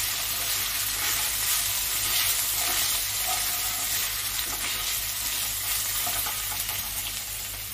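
Grated ginger and asafoetida fry in hot oil, giving a loud, continuous bright sizzle that holds evenly throughout with a low steady hum underneath and no speech.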